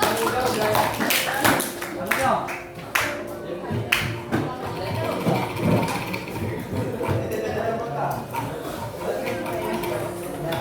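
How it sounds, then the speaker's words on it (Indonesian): A classroom audience gives a round of applause, uneven clapping and taps that rise and fall while people keep talking over it. "boleh dikasih tepuk tangannya dulu"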